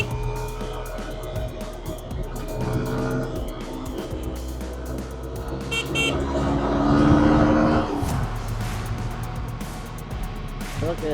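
A motorbike engine drones and swells while overtaking a truck on a mountain road between Da Nang and Hue, Vietnam, with the roar peaking then fading.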